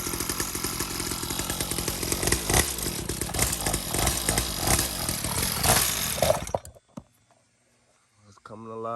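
A 49cc dirt bike engine being started with the choke up, then running loud and raspy, like a chainsaw, for several seconds before it suddenly cuts out into near silence, with a brief noise near the end.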